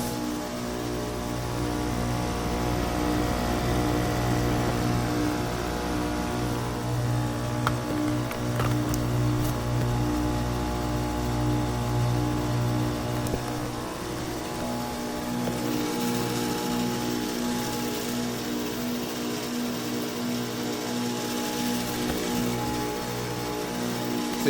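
2020 Carrier AQS 4-ton heat pump in defrost mode, a steady low mechanical hum with faint whooshing, moderately close and continuous, with a slight change in tone partway through.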